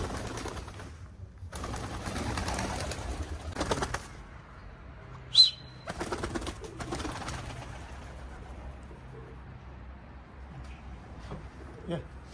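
A tumbler pigeon is thrown into the air and its wings flap in short flurried bursts, near and fairly loud, with a sharp chirp between them and people talking around it.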